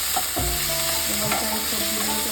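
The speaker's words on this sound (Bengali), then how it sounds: "এবারে এই সবজিগুলোকে ভালোভাবে ভেজে নিতে হবে।" Vegetables fry in a pan seasoned with Kashmiri chilli powder, cumin powder and ginger paste, giving a steady close sizzle with stirring scrapes and clinks throughout.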